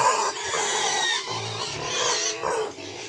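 Three-week-old piglets on a farm grunt and oink continuously while waiting for their breakfast, a dense, close chorus of noisy squeals.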